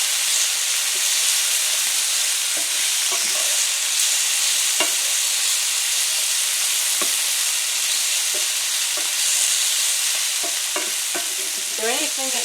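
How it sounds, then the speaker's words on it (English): Peppers stir-fry in a hot pan for Kung Pao chicken, a steady bright sizzle and hiss running throughout with occasional scraping and clinks of the utensil against the pan, close and without talk. "Is there anything that smells better than peppers cooking?"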